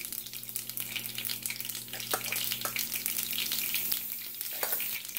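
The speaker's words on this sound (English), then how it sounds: "as soon as you start hearing the popping sound" Whole mustard seeds and cumin popping in hot oil for chole masala, a steady close sizzle with scattered sharp pops and crackles throughout.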